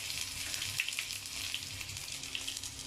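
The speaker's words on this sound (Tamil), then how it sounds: "ஜீரகம் நல்லா பொரிஞ்சதும் காஞ்ச மிளகாய் ஒரு 3, கொஞ்சம் இஞ்சி பூண்டு பேஸ்ட்டு" Cumin seeds, three dried chillies and ginger garlic paste fry in hot oil, giving a steady close-up sizzle with scattered small pops and crackles, quiet and unaccompanied by voices.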